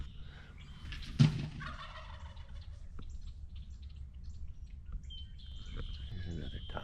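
A wild turkey tom gobbles once, fairly loud and a short distance off, over a steady outdoor background with scattered faint bird calls.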